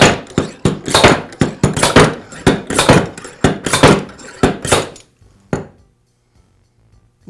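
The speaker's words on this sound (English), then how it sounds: "So I'll go ahead and pull out these bushings now." Bushings being knocked out of a Milwaukee band saw blade pulley, a rapid series of sharp metallic hammer taps and clinks close up, stopping abruptly with one last strike before near silence.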